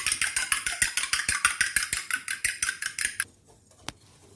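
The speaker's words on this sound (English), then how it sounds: "We have whisked the egg as well and kept aside." Rapid rhythmic clinking of a whisk beating eggs in a bowl, about twenty quick strokes in steady succession, then it stops with a single faint tap afterward; close and moderately loud, no talking.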